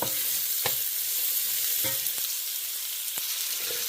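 Vegetables and garlic stir-frying in groundnut oil, a continuous bright sizzle with a few sharp clinks of a utensil against the pan, close and alone.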